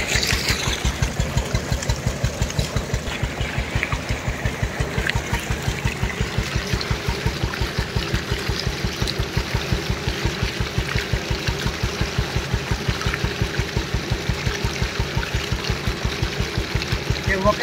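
A tractor engine runs steadily with a fast, even thumping pulse, while water flows and splashes continuously underneath, the whole scene close and unbroken for well over fifteen seconds.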